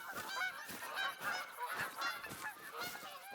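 A flock of geese honks repeatedly in theHunter: Call of the Wild, overlapping calls coming in irregular bursts at moderate distance, fairly quiet.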